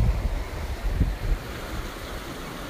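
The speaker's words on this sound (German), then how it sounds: "das Wasser ist so stark, dass hier jetzt alles übergeht" Strong sea waves surge and spill over the rocks of the Croatian coast at sunset. The water makes a heavy, rumbling wash that swells early and then settles into a steady roar, with some wind buffeting.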